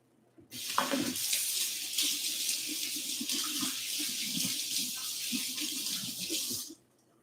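Running tap water pours steadily into a sink while a mixer spindle is rinsed under it, a close, continuous splashing rush that starts abruptly and stops after about six seconds, with small clinks of the metal part in the stream.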